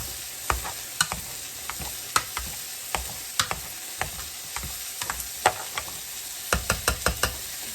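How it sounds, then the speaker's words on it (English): Boiled potatoes being mashed in a pot for brown butter mashed potatoes, a string of soft, irregular thuds and squelchy knocks from the masher, close and fairly quiet, with no voices. "we're just going to mash until desired consistency"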